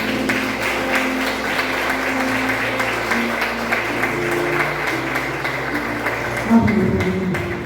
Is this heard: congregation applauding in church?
yes